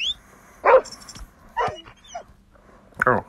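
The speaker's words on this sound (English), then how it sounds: "there goes a dog, then." Dog barks from a Call of Duty Mobile multiplayer match on iPhone, a few short separate barks spread across the moment, moderately loud amid game sounds and a talking player.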